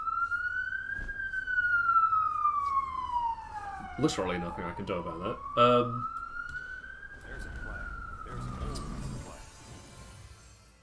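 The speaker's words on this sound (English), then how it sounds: "Apologies if you can hear the police car outside." A police car siren wails outside, sweeping slowly up and down in a steady rising and falling tone at moderate distance, with someone talking over it throughout.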